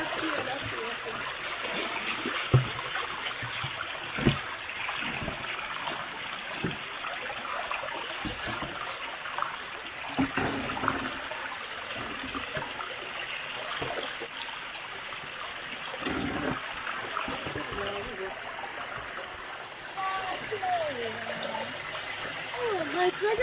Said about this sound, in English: So I like to wash the inner soles.